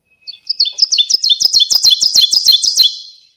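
A woodland warbler sings loudly and close by, a rapid series of about a dozen repeated two-note phrases that builds in strength.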